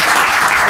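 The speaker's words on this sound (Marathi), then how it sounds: "मग वाजवा टाळ्या याच्यावर स्वतःसाठी" Students in a Marathi grammar class clap steadily as a group, a dense, even burst of applause filling the short moment without any voices over it.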